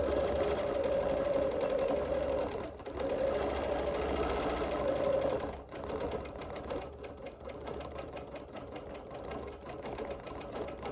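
A sewing machine stitches background quilting on an appliqué and embroidery quilt, its fast steady whir running in long bursts with a couple of brief pauses between passes.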